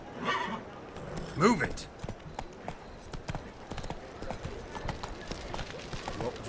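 Roach, the horse in The Witcher: Wild Hunt, gives a loud neigh near the start while hooves trot steadily throughout, with a voice briefly shouting over the game sounds.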